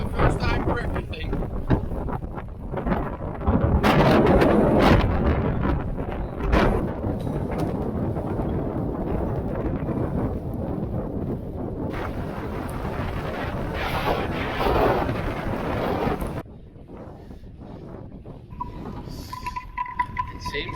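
Strong wind in a sandstorm while bikepacking on Fuerteventura roars and buffets the microphone in loud, gusting bursts, easing briefly near the end, with a voice faintly heard under it.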